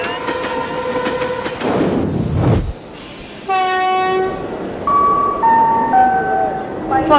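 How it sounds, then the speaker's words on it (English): A train at a station sounds a long horn blast after a rumble of passing rail noise, followed by a stepped chime-like tone sequence, loud and close, with voices talking nearby. "Sir, is this Madurai train?"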